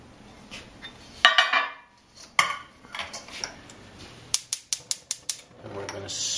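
A spoon stirs cranberries and sugar in a metal pot at the stove, with scattered clinks followed by a quick run of six rhythmic scraping taps against the pot, with a voice speaking briefly.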